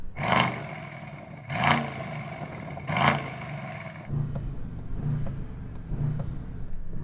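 Powerful SUV engines roar past in repeated surges during a drag race, each rev swelling and fading, followed by deeper rumbling passes from vehicles nearby, including a hybrid.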